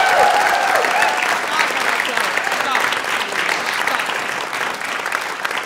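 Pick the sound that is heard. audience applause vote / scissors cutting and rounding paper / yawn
audience applause vote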